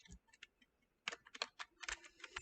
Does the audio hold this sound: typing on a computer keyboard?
yes